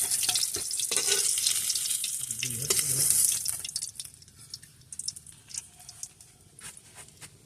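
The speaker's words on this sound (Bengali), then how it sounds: "এভাবে আমি সবগুলো মাছ ভেজে নেব" Rohu fish pieces fry in oil in a pan, a dense close sizzle that fades partway through into lighter crackles and scattered clinks.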